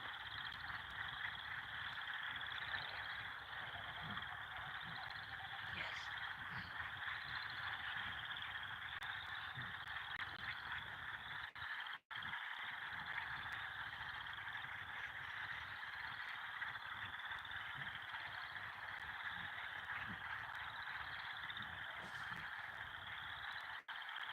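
Frogs call outdoors in a steady chorus of repeated high trills, continuous and fairly distant, with wind noise underneath and a brief dropout midway.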